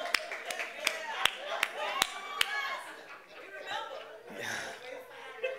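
Members of a church congregation clap in a rhythm of about seven sharp claps, and then chatter and laughter go on.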